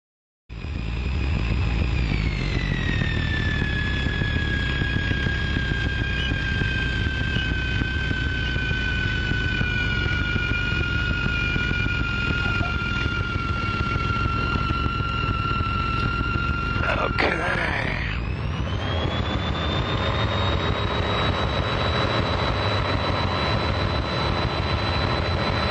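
A small airplane flies around an airport traffic pattern, its engine droning loud and steady from inside the cockpit for the whole stretch, with the pitch sliding lower and then rising again as power changes partway through.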